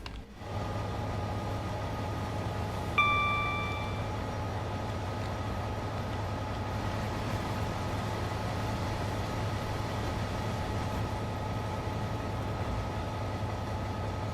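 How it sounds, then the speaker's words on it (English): Freight train engine heard from inside the cab in Train Sim World 4, a quiet steady low rumble with a brief tonal chime early on, otherwise constant and subdued. "I have no idea why the engine sounds are so quiet in the cab."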